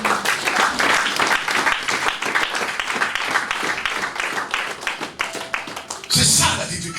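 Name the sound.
audience applauding the sisters in church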